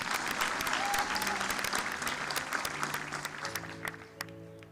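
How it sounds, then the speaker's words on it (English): A room full of people at a commencement ceremony applauds steadily for several seconds, then the clapping thins out and fades. "go ahead and do the applause"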